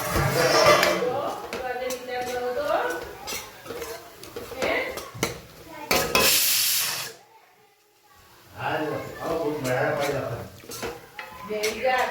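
Onions cook in a pan under clattering stirs, with metal spoon scrapes and knocks against the pot over a soft hiss; the noise drops out briefly near the middle before the stirring resumes.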